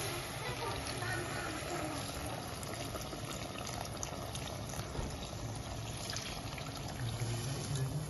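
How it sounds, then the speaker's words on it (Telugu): Water pours steadily over vegetables in a pressure cooker, a continuous rushing, splashing fill that stays fairly even and close throughout. "బిగ్నర్స్ కోసం వెజిటేబుల్స్ నానే అంత వాటర్ వేయాలి"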